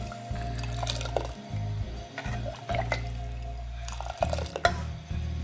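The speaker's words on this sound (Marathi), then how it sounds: "हे आता आपण गरम पाणी टाकून देऊ" Hot water pours into a pot of village-style raw mango dal, a close liquid gurgle and splash with a low hum behind it and faint drips and stirring clinks, with no one speaking.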